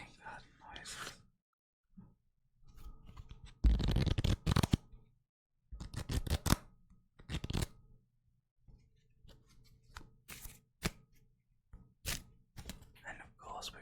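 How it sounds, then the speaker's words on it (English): A deck of playing cards shuffled and handled up close: bursts of riffling and snapping, soft taps and flicks separated by quiet gaps, with a soft voice speaking in between. "Let's finish with some playing card noises."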